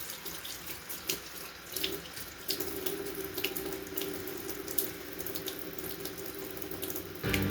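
Hot water runs from a kitchen tap during dish washing, a steady close hiss and splash with small clinks and clatter, the flow changing slightly near the end.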